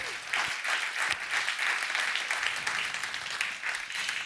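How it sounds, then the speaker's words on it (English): Audience applause for the jury at a New York Times debate on democracy and AI, fairly faint and steady, a continuous patter of many hands with a few sharper claps standing out. "clap, give the jury a hand"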